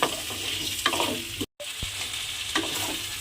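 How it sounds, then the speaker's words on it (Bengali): Potato and cauliflower being stir-fried with spice masala in a pan for phulkopir dum, a steady sizzle with scraping stirs recurring every second or so and one short silent gap midway. "এইবারে এই আলু আর ফুলকপির সঙ্গে মশলাটা খুব ভালোভাবে কষিয়ে নিতে হবে।"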